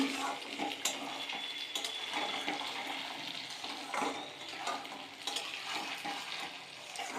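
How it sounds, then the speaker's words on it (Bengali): Onions and potatoes frying together in a pan for a katla fish kalia, giving a continuous busy sizzle with occasional stirring knocks, close up and with no one talking. "এখন পেঁয়াজটা লাল লাল করে ভেজে নিচ্ছি পেঁয়াজের সঙ্গে আলুগুলো দিয়ে দিচ্ছি"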